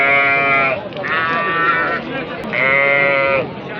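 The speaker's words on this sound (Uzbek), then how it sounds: "Qo'ylar o'ta ko'p, el andan ko'p." Sheep at a crowded livestock bazaar bleat loudly and close, in long, repeated cries over a dense crowd murmur, with several animals calling one after another.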